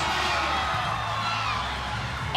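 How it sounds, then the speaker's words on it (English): A boxing-match crowd roars and cheers loudly and continuously, a broad wash of voices filling the arena with no break. "The crowd is going insane right now."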